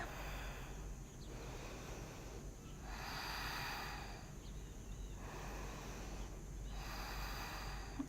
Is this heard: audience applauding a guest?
no